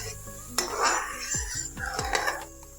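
Metal spoon scraping and clinking against a pot of simmering pani puri water, several sharp knocks and stirring scrapes close by with no talk.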